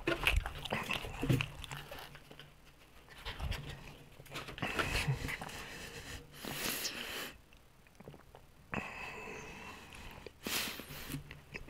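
A dog pants steadily and whimpers while waiting for beef stick treats, with a few snorts and bites mixed in; the breathing is close and continuous, rising and falling in short bursts throughout.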